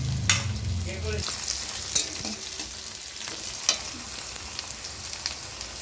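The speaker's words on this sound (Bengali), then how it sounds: "এই যে বন্ধুরা আদা রসুন বাটা দিয়ে দিলাম, একটু নেড়ে চেড়ে" Ginger garlic paste frying in oil, sizzling steadily while a spatula stirs with intermittent scrapes and taps against the pan, close and clear, with no talking.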